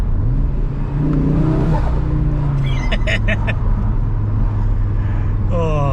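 A 2022 Audi RS3 with a 400-horsepower engine and Venturi intake accelerates from inside the cabin, a loud steady engine drone rising in pitch with whirring intake noise, briefly overlapped by a short spoken exclamation.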